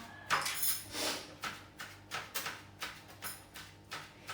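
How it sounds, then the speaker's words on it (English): A knife chopping parsley on a board, a run of quick, evenly spaced taps close by, steady and fairly loud with no talking. "just chopping it here small"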